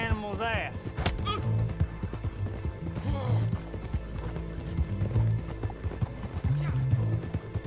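Horse hooves clip-clop at an even walking rhythm in Red Dead Redemption 2, close and steady under background game music, with a brief whinny near the start.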